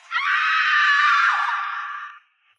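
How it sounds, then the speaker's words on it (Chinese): A terrified scream rings out from a room as an animation sound effect, a single loud, sustained shriek lasting about two seconds that trails off and leaves silence. "随后房间传出一阵惊恐尖叫。"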